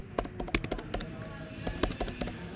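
Rapid, uneven keystrokes on a computer keyboard as login credentials are entered, close and fairly crisp, with clusters of taps and brief pauses between them.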